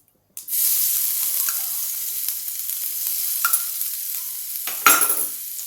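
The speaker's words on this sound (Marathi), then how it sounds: "थोडंसं हलवून घेऊया तेलात सगळीकडे हा मसाला तातळला जाईल" Ground masala spices hit hot oil with a sudden loud sizzle, then fry steadily as they are stirred with occasional scraping clicks, for an aloo matar paratha filling; a louder burst of sizzling near the end.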